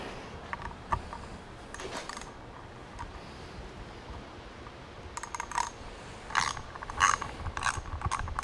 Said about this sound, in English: 8mm and our ratchet handle